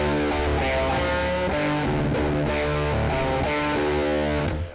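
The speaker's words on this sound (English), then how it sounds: "together with the distortion, you just create this kind of a new age blues noise" Blues guitar played with a bottleneck slide on the pinky, in drop D tuning through heavy distortion, sustained and loud with gliding slide notes and a low droning bass string, no talk.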